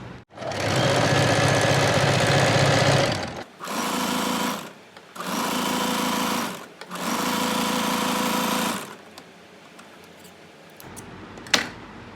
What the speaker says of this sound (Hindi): इस तरह से अब हम सेम इसी तरह से इस साइड भी सिलाई लगा लेंगे।